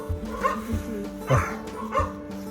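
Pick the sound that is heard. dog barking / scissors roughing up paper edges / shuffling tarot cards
dog barking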